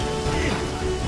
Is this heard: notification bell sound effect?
no